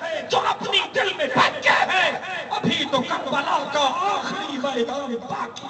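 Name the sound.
crowd chanting Allahu Akbar slogan at a rally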